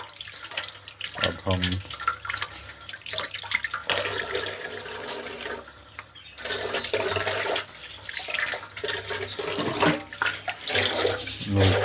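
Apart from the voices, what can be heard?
tap water washing raw chicken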